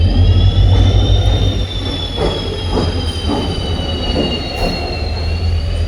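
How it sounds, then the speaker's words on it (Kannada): A passing train hauled by a KGM WDP40 diesel locomotive rumbles alongside, heard from inside a Mysore to Hubballi express coach, with steady loud low roar, high squealing wheel tones and rhythmic track clatter. "ಪಕ್ಕದಲ್ಲಿ ಯಾವುದೋ ಟ್ರೈನ್ ಬಂತು, KGM WDP40"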